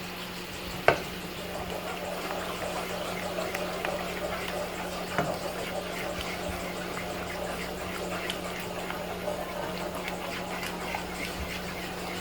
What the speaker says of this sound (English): I just need a touch of heavy cream. Stir this in.